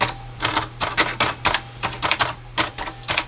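Typing on an original Apple-1 computer keyboard, a close run of uneven, clacky keystrokes in quick bursts with a steady low hum beneath and no talking.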